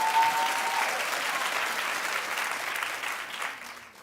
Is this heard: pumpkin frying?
no